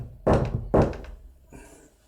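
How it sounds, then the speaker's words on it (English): Knocking at a door: two heavy, close thumps a half-second apart, then a softer, duller rap, with no voices. "Who's that knocking at my door?"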